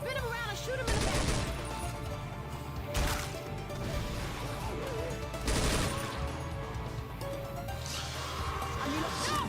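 Gunfire rings out in the zombie shooter Left 4 Dead 2, with repeated loud bursts of shots and crashing impacts over a noisy game soundscape, while voices talk intermittently.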